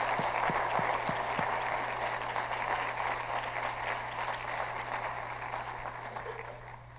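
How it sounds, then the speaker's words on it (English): Audience applause at a university's State of the University address, a steady broadband clatter of many hands that holds through the clip and slowly fades, with a few sharper claps near the start and no one speaking. "Let's give them a round of applause."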